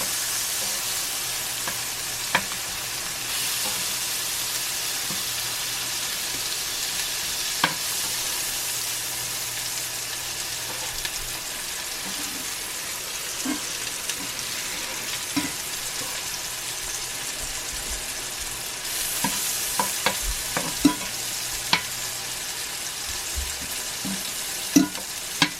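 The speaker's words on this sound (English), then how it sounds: "Threw a big knob of butter in here." A big knob of butter with sourdough bread frying in a cast iron pan, giving a loud, continuous sizzle with occasional pops and clicks throughout.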